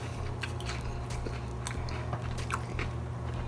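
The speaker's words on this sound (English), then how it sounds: "Do you hear that crunch?" Close, crisp crunching from bites into a Trader Joe's scallion pancake, a series of irregular crackly chews over a low steady background hum.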